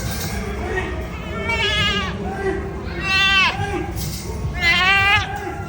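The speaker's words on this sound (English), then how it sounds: "you're going to hear what sounds like a guy yelling, "Hey." That is a goat." A goat at a livestock auction gives three loud, close bleats that sound like someone shouting, spaced a second or so apart, with people talking around it.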